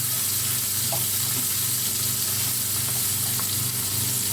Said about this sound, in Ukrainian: Продовжую смажити.